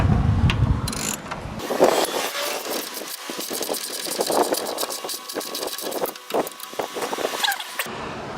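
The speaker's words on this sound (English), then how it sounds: "so we got Grandpa Nerd taking off 6 bolts. It's these bolts here." Bolts are worked loose from a bus undercarriage during a conversion, giving ratcheting clicks, metallic rattles and mechanical whirring in irregular bursts at close range, with no talk.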